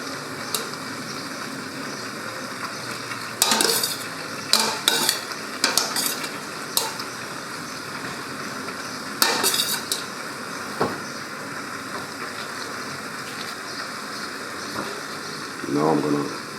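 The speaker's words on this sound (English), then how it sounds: "Now I'm going to stir it a bit." Rigatoni pasta stirred through arrabbiata sauce in a pan, with a spoon scraping and clinking against the metal in short irregular bursts over a steady low sizzle, close by.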